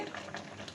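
Water pours into a cooking pot of spiced chicken pilaf masala, a steady close splashing rush that lasts the whole brief moment without pause.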